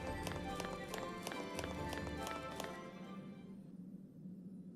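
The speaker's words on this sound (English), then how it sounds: "Sounds like she's in heels, but she's in like combat boots." Hard, heel-like footsteps of a Final Fantasy XIII character click in a fast even rhythm over game music for about three seconds, then stop.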